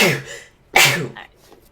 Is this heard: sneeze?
yes